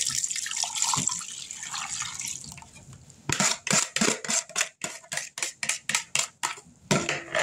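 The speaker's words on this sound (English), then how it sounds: "Now we're going to pour it in the canner or the jelly maker." Liquid jelly mixture pours and splashes into a jelly maker for a few seconds, then a series of sharp, regular clicks or taps follows, close and moderately loud.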